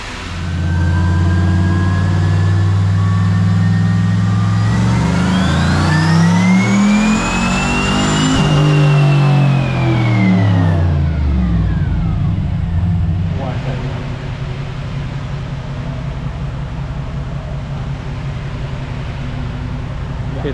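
A 1970 Chevelle with a turbocharged LS3 engine revs hard in third gear during a dyno pull. The loud roar climbs steadily in pitch, peaks with a rising turbo whine, then drops back to a rumbling idle.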